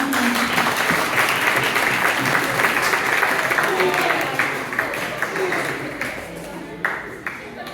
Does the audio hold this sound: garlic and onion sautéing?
no